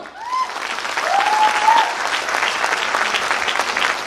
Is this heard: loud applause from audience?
yes